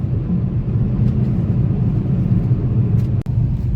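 Car cruising on the four-lane NH65 highway in moving traffic, giving a steady, loud low road rumble throughout with a brief dip near the end and no voices.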